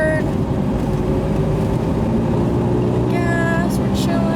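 A Triumph Spitfire engine droning steadily from inside the car while the driver works the clutch into third gear, a continuous low motor hum with a brief shift in tone near the end and speech over it.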